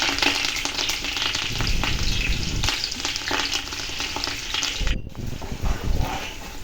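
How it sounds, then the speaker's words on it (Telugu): Dried red chillies and curry leaves crackle and sizzle in hot oil for a cabbage curry, a steady, close, busy frying noise with a brief clatter near the end and no talking. "రెండు ఎండుమిరపకాయలు కొంచెం కరివేపాకు వేసుకొని వేయించుకుంటున్నాను బాగా"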